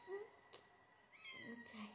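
A house cat gives a couple of short, faint meows, one near the start and another toward the end, in a quiet indoor room.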